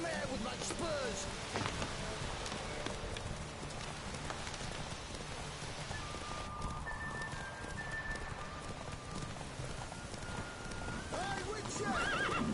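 Horse from The Witcher video game galloping with rhythmic clip-clop hooves and a neigh, amid rainy game ambience and occasional character speech.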